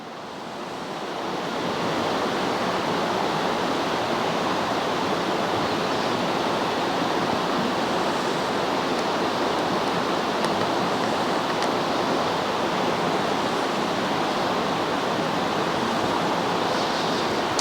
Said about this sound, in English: midday, it's really breezy on the creek